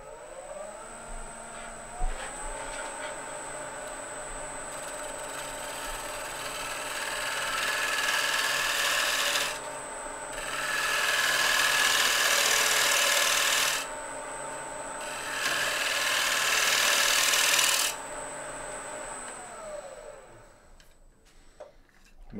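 Fluteless gouge with a short, steep bevel taking a finishing cut on a wooden bowl turning on a lathe, a sustained close rasping hiss that swells and eases in long passes over a steady motor whine.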